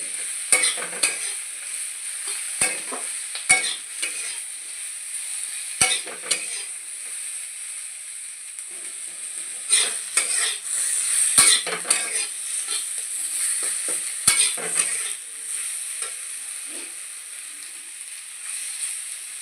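Vegetables and spices sauté in a pan for a katla fish curry, giving a steady bright sizzle. Spoon scrapes and clanks against the pan sound at irregular moments, and no one talks.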